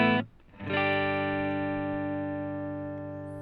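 Electric guitar played through a Silvertone amp model in the Bias FX app: a single strummed chord rings out cleanly and sustains, slowly fading over several seconds.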